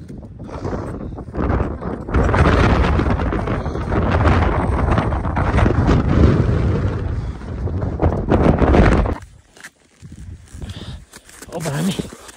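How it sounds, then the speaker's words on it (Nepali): Strong wind gusts on the summit of Mera Peak in Nepal, a loud steady roar buffeting the microphone for most of the clip, dropping away near the end, with people talking over it. "हावाले उडाउन जस्तो भइरहेछ है।"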